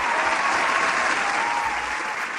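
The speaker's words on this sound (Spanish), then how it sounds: "Fuerte el aplauso," An audience gives loud, continuous applause, a dense even wash of clapping with no break across the short stretch.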